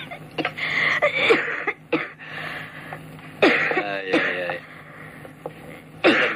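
A feverish person coughing in a quiet indoor scene, several harsh, separate coughs and throat-clearing bursts spaced a second or two apart, close and fairly loud.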